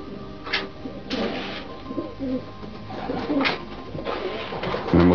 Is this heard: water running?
no